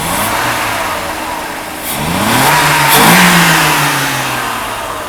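A Mercedes W126 300SEL runs during a test after fuel distributor repair, its engine steadily humming, then revving up and settling again as the pitch rises and falls, loud and close.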